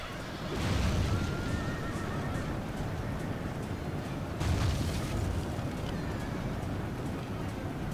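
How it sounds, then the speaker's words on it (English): Horses neigh and whinny amid a medieval battle in Medieval II: Total War, with hooves and a dense roar of fighting, swelling at two points over a loud continuous battlefield din. "See if our spears can take down some horses."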